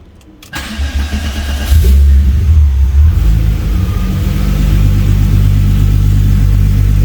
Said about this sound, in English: have a listen here to the difference in sound between the naturally aspirated one, and then I'll put the turbocharged one after that